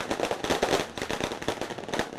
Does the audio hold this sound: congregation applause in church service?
no